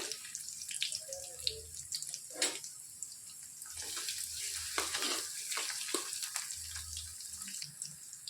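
Urad dal, garlic cloves and chopped onion fry in a pan for a Telugu bachali-leaf mango dal, giving a steady hiss with watery crackle and brief clinks of stirring, close and moderately loud, with no talking.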